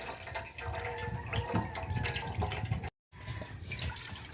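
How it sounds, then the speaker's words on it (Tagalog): Coconut milk poured through a strainer to remove dark bits from embers, a steady close liquid splashing and trickling that runs continuously with a brief dropout near the end. "isasalain na natin yung gata para matanggal yung mga itim-itim na galing doon sa mga baga na nilagay natin kanina"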